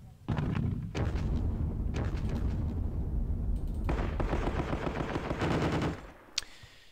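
Gunfire in the wargame Panzer Battles Kursk: dense, rattling machine-gun and artillery bursts roar almost continuously for about six seconds, loud and close, then stop abruptly, with one last faint crack.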